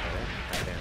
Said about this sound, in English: Friendly mortar is inbound.